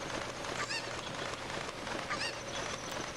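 A chicken in the video game Zelda Ocarina of Time gives two short, thin squawks about a second and a half apart, faint over a steady hissing background.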